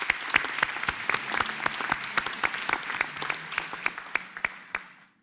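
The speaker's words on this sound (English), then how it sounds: "Please give the graduates a round of applause." Graduates at a 2021 graduation ceremony receive a round of applause, a dense spread of hand claps that is fairly distant and steady and then fades out near the end.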